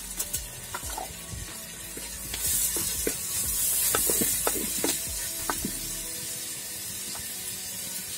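Chopped tomato added to onions already frying in a pan for Mangalore chicken pulimunchi sizzles steadily, with the hiss swelling as it hits the oil and scattered stirring taps throughout, close and without talk.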